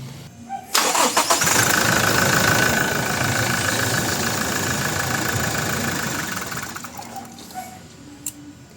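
A Toyota Innova diesel engine cranks and catches after its fuel filter has been bled of air, running loud and close with a rough, rattling idle for several seconds before cutting out abruptly and falling quiet.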